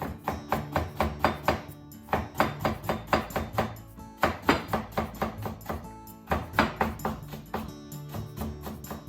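Knife slicing food into thin matchstick strips on a cutting board while preparing simmered hijiki seaweed, a rapid run of crisp close chops in quick bursts with brief pauses between them.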